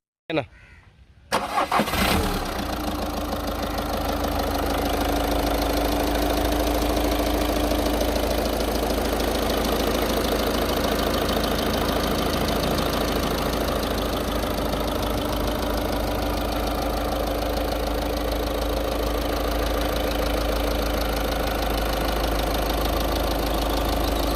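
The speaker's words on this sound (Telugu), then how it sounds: "ఇంజిన్ సౌండ్ చూసారు కదా చాలా ఎక్సలెంట్గా ఉంటుందండి" A Volkswagen Ameo diesel car cranks and catches after a short starter burst, then settles into a steady, loud, even idle with a low, constant drone that runs unbroken to the end.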